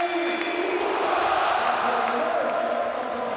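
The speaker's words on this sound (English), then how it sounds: "a big welcome from the crowd for Aubameyang" Stadium crowd at a Borussia Dortmund versus Bayern Supercup final in Dortmund, a broad steady roar of cheering and applause filling the space, distant and sustained throughout.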